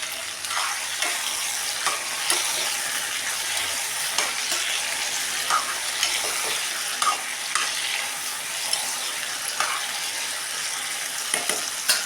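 Garlic cloves sizzling in a pan under a continuous loud fry, with repeated stirring taps and scrapes spread through the whole stretch and no talking.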